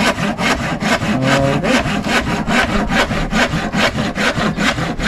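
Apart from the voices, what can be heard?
hand sawing with a manual saw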